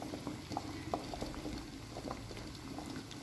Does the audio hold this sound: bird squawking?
no